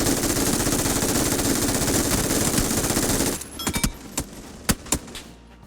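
An MG3 machine gun in PUBG fires a dense, continuous automatic burst for about three seconds, then stops, followed by a few scattered sharp clicks and distant shots. No one talks.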